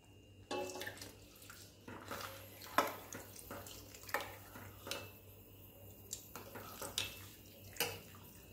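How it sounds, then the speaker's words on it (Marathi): Water poured from a vessel into a pot of Hyderabadi dalcha (dal) cooking on the stove, a soft running splash with small irregular clinks and drips over a steady low kitchen hum, close and fairly quiet. "आता यामध्ये गरजेनुसार आपल्याला पाणी घालायचं आहे"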